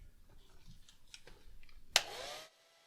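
A hair dryer blows briefly on a watercolor painting, a short loud whoosh starting with a sharp click and cutting off after about half a second, following quiet brush and handling noises.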